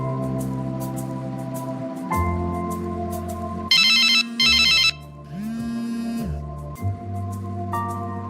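A phone ringing at night for an unknown caller, its ringtone melody repeating in short electronic bursts over a steady background hum, with no speech.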